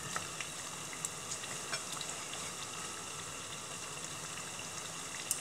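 Navajo fry bread for tacos frying in hot oil, a steady fine bubbling sizzle up close with occasional small pops and crackles.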